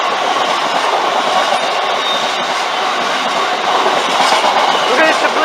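Freight train 6E54 of blue tankers passes at Lincoln, bound for the Humber Oil Refinery, with a loud, close, continuous roar and rhythmic clatter of wagon wheels over the rails.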